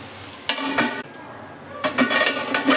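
Spicy chicken curry being stirred in a pot, with a few short scraping and clinking strokes of a spoon against metal in two brief bursts over a low steady sizzle, close by.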